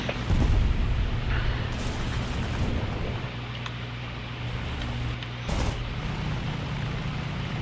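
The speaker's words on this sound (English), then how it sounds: "and I exploded." An aircraft blowing up in War Thunder, a heavy, booming burst up front that fades into a sustained roar of engine and wind, with a second thud later.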